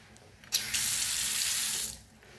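A hotel bathroom sink faucet turns on and runs in a strong, steady close-up gush for about a second and a half, then cuts off, with no talking over it.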